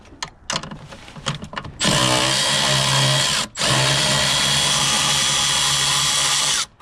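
A power tool runs in two long sustained bursts, loud and close, with a brief pause between, while removing a nut from a 3.6L V6 engine on a 2012 Dodge Journey SXT during camshaft replacement; a few clicks and handling noises precede it.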